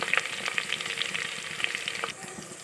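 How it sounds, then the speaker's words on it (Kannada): Fenugreek leaves and spices fry in a pan, a close, steady sizzle and crackle with scattered pops and the scrape of a stirring spoon, easing slightly toward the end. "ಮೆಂತ್ಯ ಸೊಪ್ಪು ಸ್ವಲ್ಪ ಫ್ರೈ ಆಗಿದೆ. ಈ ಟೈಮಲ್ಲಿ ನಾನು ಮಸಾಲೆ ಐಟಮ್ಸ್"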